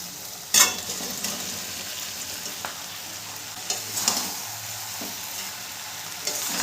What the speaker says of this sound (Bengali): চিকেনের সাথে গ্রেভিটাকে ভালো করে মিশিয়ে নেব